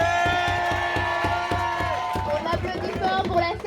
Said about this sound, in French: On applaudit fort pour la scène numéro 1 qui se termine.